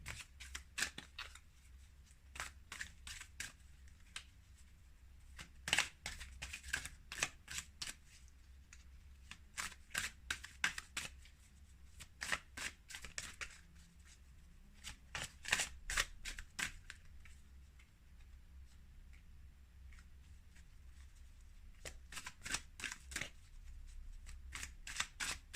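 Tarot cards shuffled again and again in crisp, papery bursts of riffling and flicking, close by, with quiet gaps between rounds and no talking.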